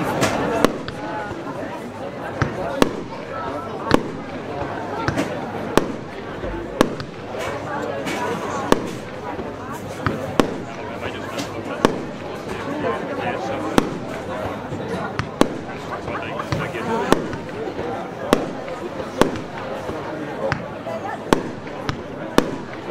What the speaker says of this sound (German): Wir schießen jetzt die APF 40, 38, 25 Schuss Z-Shape.